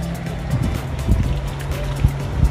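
A banana boat is towed across the sea off a beach, with a continuous motor drone, water rushing and splashing, and wind noise throughout.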